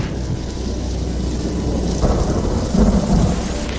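Steady rain pours down while low rumbles of thunder roll in and out, with no one talking.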